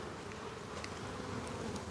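Dense, steady buzzing of a mass of honey bees crowding the top of an open beehive, close and continuous throughout with no pauses or voices.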